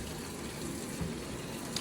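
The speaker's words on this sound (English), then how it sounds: "The water is going to the machine." Water pours steadily into an LG top-load washing machine with an agitator and Deep Fill, a faint, even rushing that stays constant throughout, with no talk.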